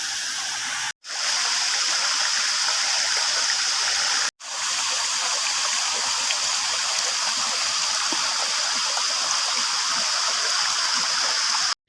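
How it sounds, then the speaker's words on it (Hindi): Water in a stream flowing steadily past, a continuous rushing close by, cut by two brief silent gaps. "और यही पानी जो आगे जा रहा है।"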